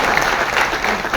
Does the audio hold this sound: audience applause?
yes